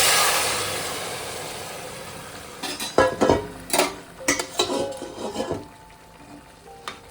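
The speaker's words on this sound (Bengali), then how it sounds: "এবার আমি তরকারিটা সাঁতলে দেবো।" Rohu fish curry being sautéed in a pan after five-spice seeds were fried in hot oil, a sizzling hiss that builds into bursts of loud frying and stirring, with no talk.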